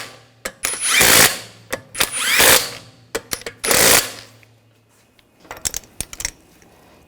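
On a BMW X5, a power tool snugs down wheel bolts in several loud, short whirring bursts with ratcheting rattles, followed by lighter clicks and taps.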